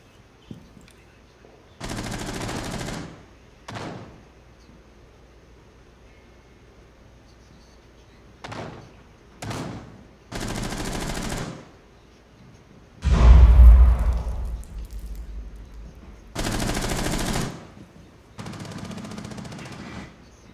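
Automatic gunfire in Rainbow Six Siege on the Park map, several separate rapid bursts with quiet gaps between them, the loudest near the end, under light game ambience.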